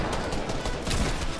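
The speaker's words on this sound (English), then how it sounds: "I heard gunshots." Rapid gunfire in the Fortnite video game, with a dense burst of overlapping shots at steady loudness throughout.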